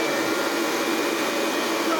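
A Hoover Junior 375 upright vacuum cleaner motor runs steadily after being switched on, a loud, even whirring drone close by with no change in pitch and no voices over it.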